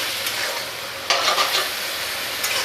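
Spices sizzle steadily in a hot pan while a utensil scrapes and stirs in a few quick bursts, close up and with no talking.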